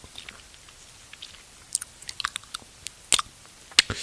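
Close, quiet chewing of an everything bagel: scattered small crunches and mouth clicks that grow denser and sharper toward the end, with no talking.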